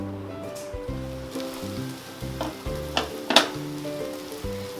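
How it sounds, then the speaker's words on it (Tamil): Okra (vendakkai) coated in rice flour deep frying in a pan, a steady close sizzle with bubbling crackle and a few sharper pops, over a background of low tonal music. "இப்போ பாருங்க வெண்டைக்காய் நல்லா டீப் ஃப்ரையாக ரெடி ஆயிடுச்சு."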